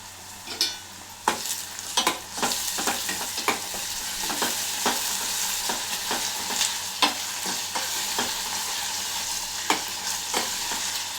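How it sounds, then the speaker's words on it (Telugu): Ginger garlic paste fries in a pan with a steady bright sizzle, while frequent sharp scrapes and taps from a stirring spoon come at close range throughout, and no voice is heard. "ఇప్పుడు కొంచెం అల్లం ఎల్లిగడ్డ పేస్ట్ చేసుకుందాం ఒక స్పూన్ అల్లం ఎల్లిగడ్డ పేస్ట్"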